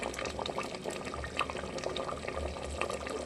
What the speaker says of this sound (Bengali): ফুটতে শুরু করেছে বন্ধুরা।